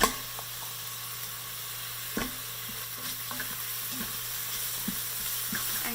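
Green chili paste made of green chili and salt sizzles in a pan while sautéing for a vegan potato and moringa stew, a steady hiss with occasional soft spoon taps, close and constant.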